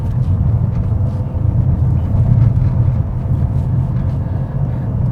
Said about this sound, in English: this is a big German muscle car is what this feels like and sounds like